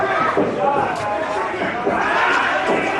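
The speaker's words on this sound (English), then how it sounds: "Listen to this crowd, though. They are trying to get Vigo back up." A wrestling crowd in an arena cheers and shouts in a continuous roar, with a commentator talking over the noise.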